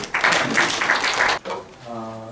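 Audience clapping welcomes a professor at a Korean seminar on the Singapore North Korea–US summit, a dense burst of applause for about a second and a half that drops away, followed by quieter room sound and a voice.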